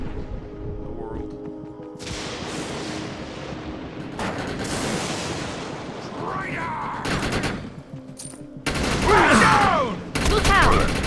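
Assault rifle gunfire rattles in the game Defiance amid a fight with hellbugs, with sustained bursts of rapid shots and several louder, sharper volleys near the end, mixed with a busy game soundscape.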